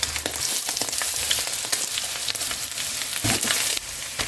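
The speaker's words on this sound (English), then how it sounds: "Fry eggs, bacon, add the onion and the other vegetables, then the rice." Eggs and bacon fry in a hot pan for egg fried rice, a loud continuous sizzle with occasional stirring scrapes and pops close by.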